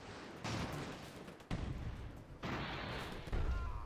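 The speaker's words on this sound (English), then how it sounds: "Big gun tower, some rockets." Airship gun tower firing in the strategy video game Airships: Conquer the Skies, several quiet booming shots in a row, each one a faint thud with a rumbling tail.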